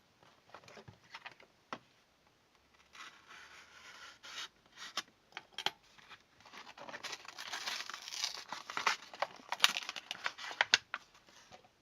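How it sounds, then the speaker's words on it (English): Plastic scrapes, crackles and snaps as the diffuser dome is cut away from a small 3.2-watt LED bulb, a close, uneven series of gritty crunches and ticks that grows busier toward the end. "I'm going to cut off this part, the light diffuser"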